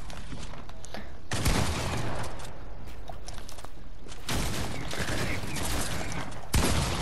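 Shotgun gunfire in the Fortnite video game: three loud, sharp blasts, each trailing into a noisy decay, spaced a few seconds apart over a quieter background.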